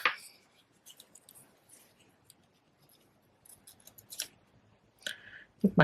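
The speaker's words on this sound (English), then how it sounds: "my ribbon scissors need sharpened" Ribbon scissors snip through cardstock in a few short, crisp cuts spaced apart, close and fairly quiet, separated by near silence.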